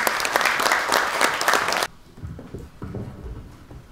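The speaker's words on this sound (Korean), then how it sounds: "우리 회장님을 뜨거운 박수로 모시겠습니다" An audience at a forum applauds loudly and densely for almost two seconds, then the clapping cuts off abruptly, leaving quieter room noise and faint movement.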